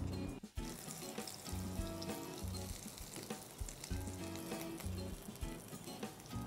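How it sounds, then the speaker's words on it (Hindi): Potato pieces shallow frying in oil in a pan, a dense continuous sizzle and crackle with faint bubbling and occasional clatter, steady and close. "इसी तरह हम अपने बाकी के आलू भी शैलो फ्राई कर लेंगे।"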